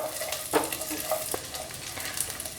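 Cashews and raisins frying in ghee in a pan, a steady soft sizzle with occasional stirring scrapes and light clinks, close and fairly quiet, no voices.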